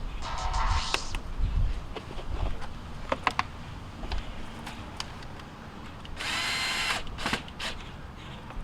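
A power drill fastens the rear cover back onto a Maytag MDG4000BWQ gas dryer, giving short whirring bursts with clicks and handling noises between them, close by and moderately loud.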